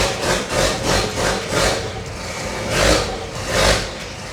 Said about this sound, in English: So that's the vacuum pump going.